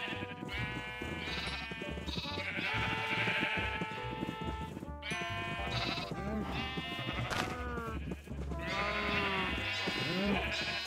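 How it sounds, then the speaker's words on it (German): Pink sheep in Minecraft bleat repeatedly, overlapping nasal cries from several animals in quick succession, loud and close over a faint game background. "Hier eine ganze Reihe von pinken Schafen."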